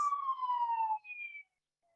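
An ambulance siren from a nearby depot wails in a steady, falling tone for about a second, then shifts pitch for a shorter stretch before cutting off into near silence. It sounds fairly faint and distant, with no talk over it.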